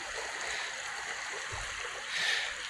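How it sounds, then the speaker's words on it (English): Steady stream water flows and trickles beside the old iron furnace banks at Boiling Springs, Pennsylvania, a soft continuous wash with a faint brighter swell near the end. "But you can hear the water."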